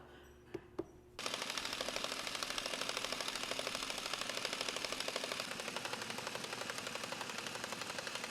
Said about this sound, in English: Got a nice impact wrench in there with a knuckle on it. Took them right off.